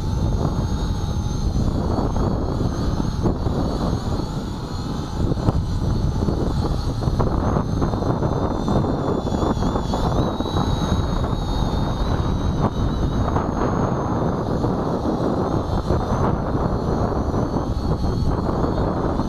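A small Depron foam quadcopter flies outdoors, its rotors giving a steady, loud buzzing whine that rises and falls slightly, with gusts of wind buffeting the microphone throughout.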